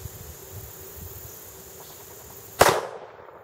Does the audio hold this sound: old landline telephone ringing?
no